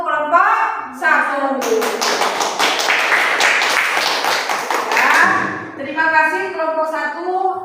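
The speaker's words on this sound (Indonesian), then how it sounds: "Kita kasih aplaus dulu" A classroom applauds a group's work, with a burst of many hands clapping for several seconds, close and loud, with a teacher talking just before and after.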